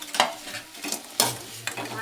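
Cauliflower being stir-fried for gobi manchurian, a low sizzle broken by several sharp scraping stirs of a spatula in the pan, close and moderately loud.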